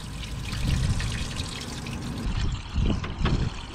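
Old rusty water drains from an old U-Haul box truck that sat for decades, a steady trickling pour with a few louder splashing surges, close by and without talk.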